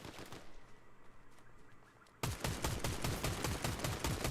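Rapid automatic gunfire in a shooter video game bursts in partway through, loud and continuous, after a short stretch of sparser single shots and quieter background.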